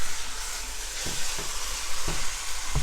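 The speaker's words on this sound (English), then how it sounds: "We're browning up the meat inside the pot first so that you can get nice deep flavors in your meat" Beef browning in a pot with onion and garlic gives a dense, continuous sizzle and frying hiss, broken by a few soft stirring knocks and scrapes.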